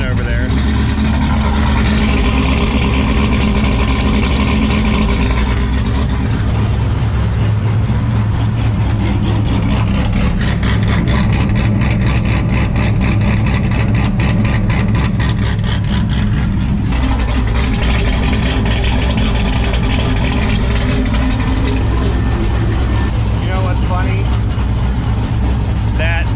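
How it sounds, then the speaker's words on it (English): An original Cadillac Escalade engine runs steadily at close range in a car, a continuous deep rumble and drone with changes in tone, while people talk over it. "The original engine from the Escalade is the one running in this car right now."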